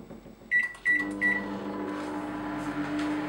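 A microwave oven heats a plate of baked meatballs: three beeps as buttons are pressed, then the door thuds and the low steady hum of the running oven settles in, close by.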